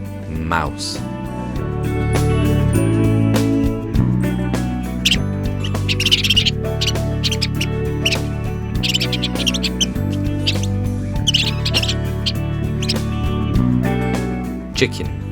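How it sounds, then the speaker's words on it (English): A mouse gives short, high squeaks over steady background music, with no other voices. "mouse."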